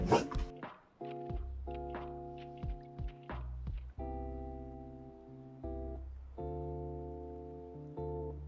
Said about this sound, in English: the dogs are starting to get really riled up.